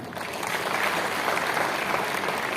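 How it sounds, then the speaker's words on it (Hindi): A crowd at an Indian business event stage gathering breaks into loud, sustained applause for doctors being called up, a continuous even clatter of many hands with no voices. "जोरदार तालियां के लिए"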